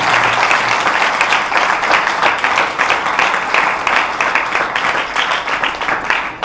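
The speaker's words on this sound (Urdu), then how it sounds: "زوردار تالی ہے یسوع مسیح کے لیے۔" A congregation bursts into vigorous, sustained applause for Jesus Christ, loud, dense clapping that carries on steadily without pause from start to finish.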